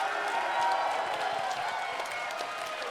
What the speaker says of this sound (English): give it up to Guilty Gear Top 8.